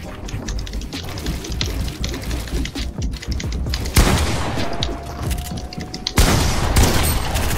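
Gunfire in a boxfight video game comes as bursts of rapid shots and sharp booms, loud and close, with a dense volley near the middle and another at the end.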